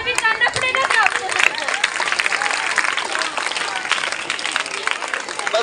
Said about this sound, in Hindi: इनके लिए तो तालियां बजा दो